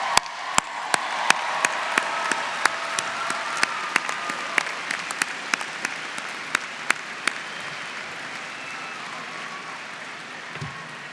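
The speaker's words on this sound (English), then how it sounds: "Let's give them a round of applause for all the help that they have given" Crowd applause at a university commencement ceremony, a broad steady wash of clapping from a large audience with sharper individual claps standing out near the front, fading slightly toward the end.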